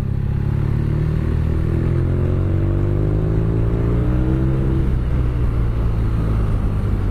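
A BMW R nine T 2017 motorcycle engine runs steadily, then its pitch climbs as it accelerates, with a drop and a fresh rise near the end; loud and close.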